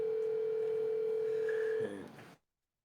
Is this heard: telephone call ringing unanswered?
yes